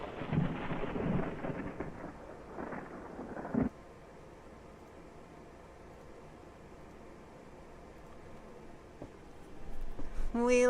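Rain pours with rolling thunder for the first few seconds, loud and close, then cuts to a quiet hush with a faint sound near the end.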